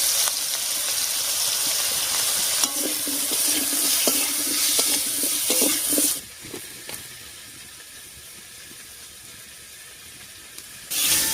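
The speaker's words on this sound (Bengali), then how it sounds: "মিষ্টি কুমড়ো আর বেগুনটাও আলুর সঙ্গে বেশ ভাজা ভাজা মতো হয়ে গেছে" Pumpkin, eggplant and potato sizzle in a pan while a spatula stirs and scrapes, the frying loud at first, then quieter and steadier before the sizzle swells again.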